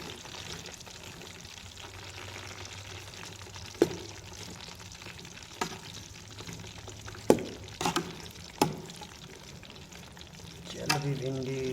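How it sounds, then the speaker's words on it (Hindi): Okra (bhindi) pieces half-frying in hot oil, a low continuous bubbling sizzle broken by several sharp clinks and scrapes of a utensil against the pan, with a brief burst of bubbling near the end. "आपने भिंडी को जो है हाफ फ्राई तलना है"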